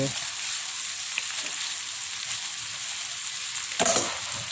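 Boiled noodles coated in vegetable oil are stirred in a pan, with a steady soft sizzle throughout and a brief louder scrape near the end.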